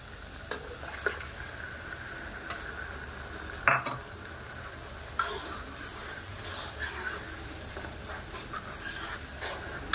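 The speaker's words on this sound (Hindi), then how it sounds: "तो ये मटर भी फ्राई हो गई हैं, तो अब मैं इसमें डाल देती हूँ ये टमाटो प्यूरी।" Peas fry in a pan on a home stove as tomato puree goes in, giving a soft continuous sizzle broken by a few sharp clinks and scrapes of a spoon against the pan, quiet and close.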